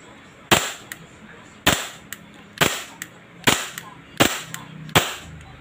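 A WE Glock 17 Gen 3 airsoft pistol with a silver slide, test fired through a chronograph, gives six sharp gas-blowback cracks, each followed by a brief clack, spaced about a second apart and loud and close.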